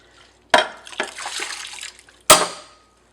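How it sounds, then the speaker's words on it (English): Water is poured and splashed out of a cooking pot in two distinct dumps, a sudden rush followed by gurgling and dripping, then a second quick splash, close and fairly loud with no talk. "Now let's empty this pot."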